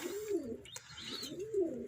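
Low, soft pigeon coos repeated twice, with a faint chirp between them against quiet background noise, from tumbler pigeons kept grounded by bad weather.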